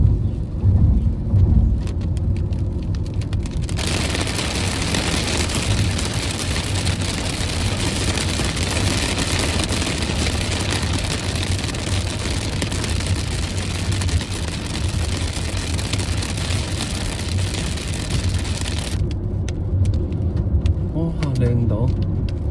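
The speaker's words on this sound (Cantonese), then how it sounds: "你睇下而家呢度唔好話咩滂沱大雨啊" Dense rain falling on Hailing Island under a dark sky, a steady broad hiss that starts abruptly, holds for about fifteen seconds and then cuts off, with a low rumble and voices underneath.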